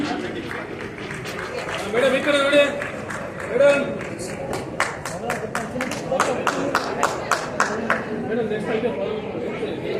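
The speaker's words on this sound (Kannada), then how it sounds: "ಅವರಿಗೆ ಜೋರಾಗಿ ಚಪ್ಪಾಳೆ ತಟ್ಟಿ" A small audience claps for a first-prize winner of a Nadu Nudi song competition at an award ceremony, a sparse run of separate claps rising after a voice speaks in the room.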